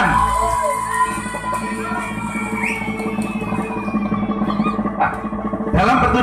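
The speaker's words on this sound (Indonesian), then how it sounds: "Tepuk tangan." Crowd of residents at an outdoor neighbourhood community gathering in Indonesia cheering and clapping with whoops and shouts, a steady, loud, dense roar that swells again near the end.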